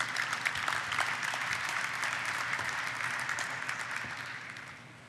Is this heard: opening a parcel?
no